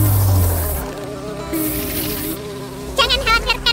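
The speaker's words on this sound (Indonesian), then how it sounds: "Aku cuma lebah biasa." A bee buzzes in a cartoon-style scene, a steady insect drone that swells and fades, joined by brighter, wavering buzzy bursts toward the end, with no talk over it.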